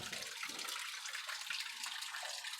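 Water runs into an LG Inverter 11 kg automatic washing machine that has a slow-inlet fault, making a faint, continuous hissing trickle with no talking.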